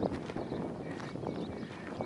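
Donkeys walk near visitors at Al-Hail Castle, their hooves clip-clopping in a quick, uneven patter at moderate distance.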